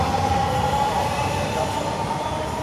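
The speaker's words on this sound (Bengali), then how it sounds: "তার মানে একটা মেট্রো রেল মাত্র ছেড়ে গেল।" A Dhaka metro rail train pulls away from the station, giving a steady, fairly loud rumble that holds evenly across the whole stretch with no clear pauses.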